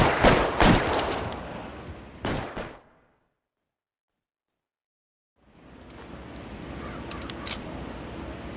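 Automatic gunfire from a Browning Automatic Rifle in the video game L.A. Noire: rapid bursts of close, loud shots, then a few seconds of silence before a noisy gunfight ambience resumes.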